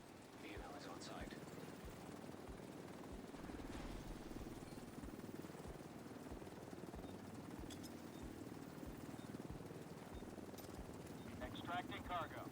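A helicopter arriving in The Division 2, its rotor thudding in a quiet, steady rhythm beneath in-game voices and effects.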